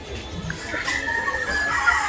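Chickens clucking among roosters and turkeys at a poultry area, with scattered soft clucks and a faint drawn-out crow-like call over a low, steady background.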